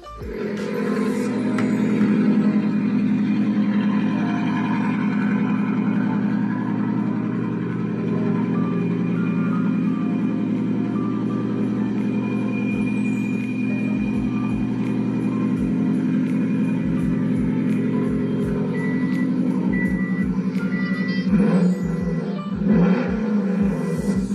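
A Subaru WRX engine rumbles at idle and low revs, a deep continuous burble heard up close and loud, with a brief rise in revs near the end.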